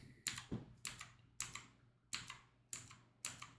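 Close typing on a Bluetooth computer keyboard: six short bursts of crisp clicking keystrokes arrive in a steady rhythm, separated by brief pauses, with no voices.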